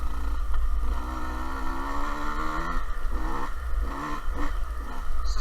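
A 2020 Beta 125RR two-stroke dirt bike engine runs at part throttle on a ranch track, close and steady, its buzzing tone rising and falling with short throttle blips, with no talk.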